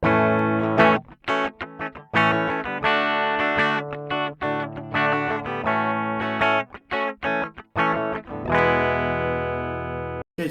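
Clean-toned electric guitar played straight into the board with no pedal and no amp, strummed chords ringing out in a lively rhythm with short gaps between phrases, loud and close.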